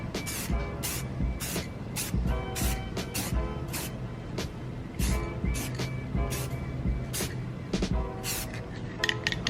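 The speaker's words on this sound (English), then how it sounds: "what I'm gonna do is light horizontal sprays" Short, sharp hisses of an aerosol can repeat in quick irregular bursts, close and fairly loud, as spray coating goes onto the headlight of a 2005 Acura RSX.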